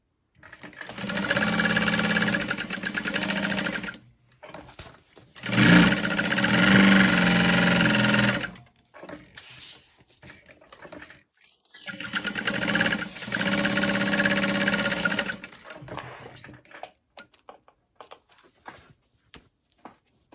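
A sewing machine bastes a U-shaped slip pocket on a large handbag, running in three bursts of rapid, rhythmic stitching with short quiet gaps and small handling noises between them, close and clear with no talk.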